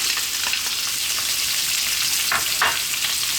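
Onion stir-frying in oil over high heat for beef and broccoli in oyster sauce: a steady close, bright sizzle with two sharper bursts of stirring near the end, and no voices.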